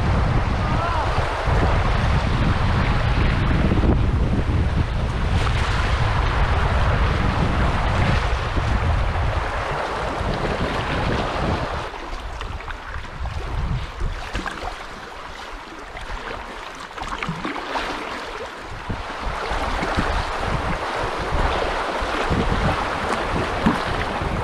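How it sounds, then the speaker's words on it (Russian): Strong wind gusting over a kayak on the Lemva river in the Subpolar Urals, a loud broadband rush with heavy microphone buffeting in the first ten seconds, easing to a softer airy roar later with water noise. "Ветер по-прежнему очень мощный,"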